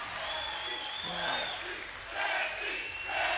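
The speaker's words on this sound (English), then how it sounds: "And the crowd chanting his name, chanting for Jonathan Morgan as well." Spectators at an axe throwing championship chant a victorious thrower's name in rhythmic bursts, a mid-distance crowd roar rising and falling over a few seconds.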